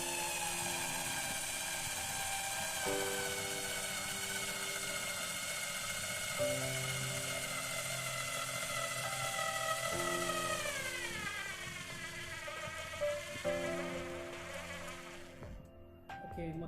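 A battery screwdriver drives a screw into wood with a steady, close, whining motor hum that shifts pitch in steps as it labors under heavy load, then eases off near the end.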